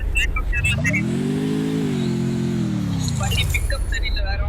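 A video game vehicle engine revs up in a smooth rising and falling swell, loud and close over a steady background hum.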